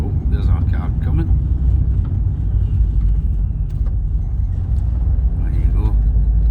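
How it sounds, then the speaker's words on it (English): A car approaches on a road through the Black Wood forest in the Scottish Highlands, a steady low rumble of engine and tyres beneath people talking. "Oh, there's our car coming."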